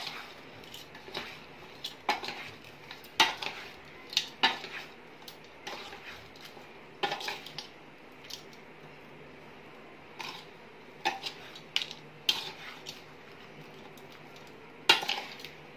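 Homemade village pickle mixed with turmeric and salt, with quiet scattered clinks and scrapes of a spoon against the vessel at an uneven pace.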